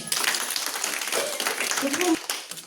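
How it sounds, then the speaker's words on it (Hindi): An audience at a BJP women's wing meeting in Kathua, Jammu, breaks into applause. Scattered clapping runs for a few seconds, with voices heard through it. "पहले तो मैं चाहूँगी कि आप सब उनके लिए तालियां बजाएं"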